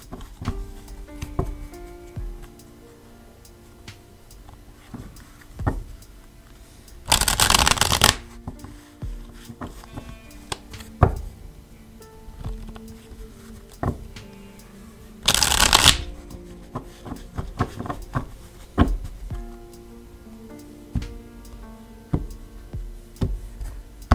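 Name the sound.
shuffling tarot cards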